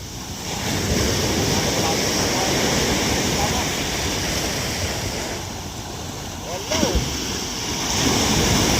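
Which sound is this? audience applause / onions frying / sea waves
sea waves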